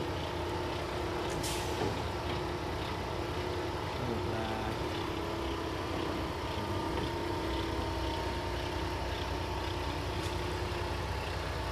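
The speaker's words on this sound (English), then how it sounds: "Air brakes, obviously." Air brakes on a 2015 Peterbilt 388 day cab truck, heard as a brief hiss near the start over a steady diesel engine rumble, with a fainter release later as the truck idles and creeps forward.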